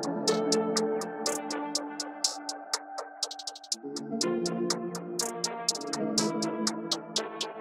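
A crisp, low-tuned hi-hat ticks in a quick pattern with rapid stuttering rolls, playing over a sustained synth backing with no voices.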